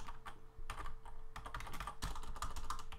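Rapid typing on a computer keyboard, with fast irregular clicks of keys close by, continuous over a low steady hum.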